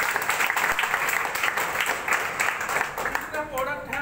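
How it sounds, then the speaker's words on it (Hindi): A crowd at a product presentation breaks into sustained clapping, fairly dense and lively, fading slightly as a voice cuts in near the end. "जोरदार तालियां होनी चाहिए।"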